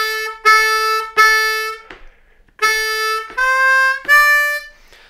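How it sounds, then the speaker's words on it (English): Harmonica in D playing the opening lick: six bold, reedy notes in two phrases of three with a short gap between, close and loud, with no voices. "So let's look at what the first lick sounds like and how to play it."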